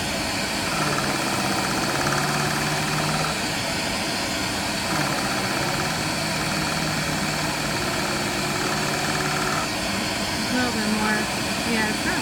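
A JOOLTOOL runs at slow speed, polishing the bevels of a piece of dichroic glass, giving off a steady whirring drone with faint grinding texture while a person talks over it.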